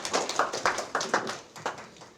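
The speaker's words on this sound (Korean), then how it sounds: "따뜻한 박수로 맞아주십시오." A small audience gives light, evenly paced applause welcoming a speaker onto the stage at a Jeju honorary residents' gathering; the claps are soft and a little distant, with no talking.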